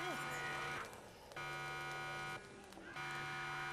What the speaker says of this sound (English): We just set an alarm off